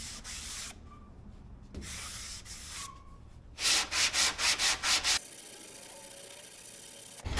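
Sanding block worked across auto body filler in an X pattern, broad rough scraping with a burst of quick rhythmic back-and-forth strokes in the middle, close and fairly loud.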